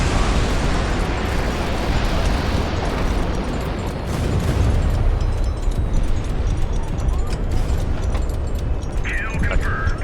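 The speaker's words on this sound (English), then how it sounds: "They're taking like a full on barrage, like 180 over here" A dense artillery barrage in a video game, with a continuous roar of close explosions and rumbling blasts throughout, loud and unbroken, and a faint voice briefly near the end.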